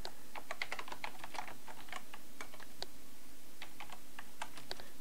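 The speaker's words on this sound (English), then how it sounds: "Then we can type here" Typing on a computer keyboard while writing Java code, a run of crisp, close keystrokes in quick irregular clusters over a steady background hiss, no talking.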